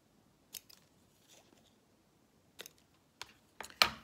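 Scissors cutting paper for a scrapbook collage: a few separate, close snips spaced apart, with faint rustling between them and a sharper crisp snip at the end.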